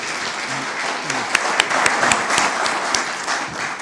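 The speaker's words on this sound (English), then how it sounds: "Let's give our speakers one more round of applause." An audience at an academic talk on technological change and inequality applauds for the speakers, a dense wash of clapping with a few louder individual claps standing out near the front.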